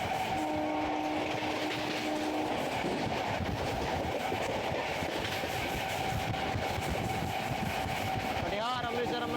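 A Katihar–Amritsar Amrapali Express (15707) approaches Bhadan station slowly, with a steady loud rumble of rolling wheels and rail clatter throughout, a brief sustained horn tone early on and a short warbling horn near the end.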